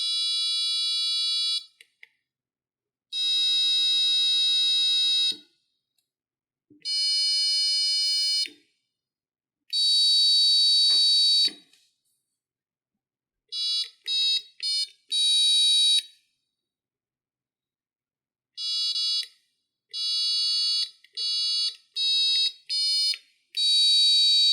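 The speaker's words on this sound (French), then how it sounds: "On a bien nos 4 notes de musique différentes produites par le buzzer, avec 4 boutons poussoirs sur une entrée analogique." An Arduino piezo buzzer wired to four push buttons on one analog input sounds a series of loud, clean electronic tones in short separate bursts, cycling through four different musical notes with pauses between presses and no talk.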